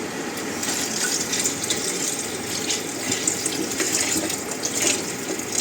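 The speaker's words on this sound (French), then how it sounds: "Et je vais rajouter un peu d'eau pour que je puisse faire cuire mes pâtes dedans." Water runs steadily from a tap into a cooking pot for pasta with chorizo, mushrooms, peppers and mussels, a close, constant gushing stream with no talk.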